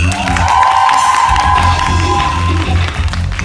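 Audience at a Korean live performance applauding and cheering, a loud, sustained burst of clapping and shouts with a sung or held voice riding on top.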